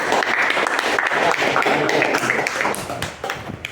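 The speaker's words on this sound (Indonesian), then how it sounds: "silakan beri applause untuk Avando" Classroom applause for a student, a steady burst of many hands clapping close by for a few seconds before tapering off.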